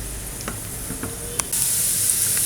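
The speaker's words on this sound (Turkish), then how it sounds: "Bir tane iri doğranmış kuru soğanımı ekledim. Pembeleşene kadar kavuracağım onu." Coarsely chopped onion sizzles steadily in hot oil, a close crackling hiss with a few clicks of a spoon stirring the pan.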